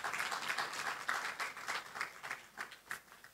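Audience applause at the launch of National Family Planning Week, a faint, distant patter of clapping with a loose rhythm that swells and ebbs.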